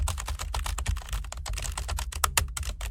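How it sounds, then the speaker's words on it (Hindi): Fast, steady clatter of a mechanical computer keyboard being typed on, close and loud, with dense continuous keystrokes and no talking. "ये टाइपिंग इफेक्ट में आएगा।"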